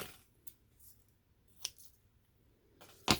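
Close, quiet scissors trim paper for a junk journal mini envelope, with three separate crisp snips spaced over a few seconds and no talking.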